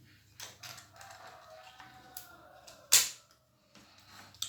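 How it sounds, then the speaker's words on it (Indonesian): A 4 GB RAM module snaps into the memory slot of an Asus X541C laptop with one sharp, close click amid faint handling noise. "sampai bunyi cekrek."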